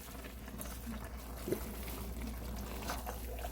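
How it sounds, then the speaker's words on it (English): Cooked collard greens with ham being stirred around in a pot, giving a steady wet, sloshing churn with a single louder clunk partway through; no voices. "we're just going to stir these around in there real good"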